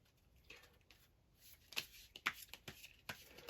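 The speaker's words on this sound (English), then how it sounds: "Now, while we're shuffling here," A deck of trading cards is shuffled during a Universus card game, with soft riffling and sharp card snaps that build into a quick burst of flicks, close and fairly quiet.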